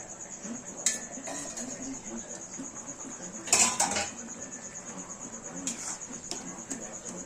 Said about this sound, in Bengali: আমরা একবার ঢাকাটা খুলে একবার দেখে নেব